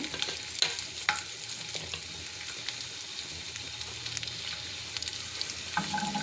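Cumin seeds and garlic sizzle steadily in hot oil for a brinjal-tomato chutney, a continuous bright frying hiss with a few soft clinks of stirring, close and without talk.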